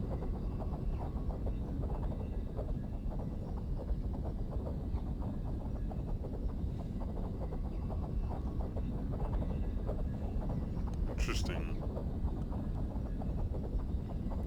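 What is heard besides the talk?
spaceship engine noises in X4: Foundations video game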